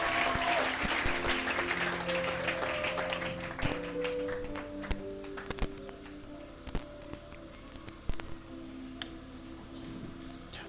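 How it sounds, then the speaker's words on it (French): A congregation claps at a wedding blessing led by a pastor. The applause is dense and lively at first, then thins to scattered individual claps and a few sharp taps, with faint voices in the background. "On peut applaudir."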